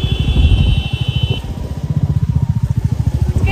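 A motorcycle engine idles in a traffic jam at a rail gate, a loud steady pulsing chug close by, with a brief high whine fading early on.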